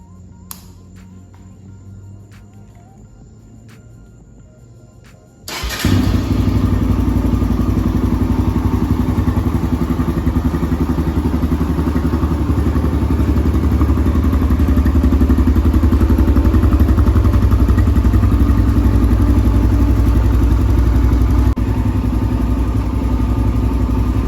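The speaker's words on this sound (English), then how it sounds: "Let's actually start this thing." A Kawasaki KLX motorcycle engine catches and starts after a few seconds of quiet, then idles loudly and steadily nearby for the rest of the time.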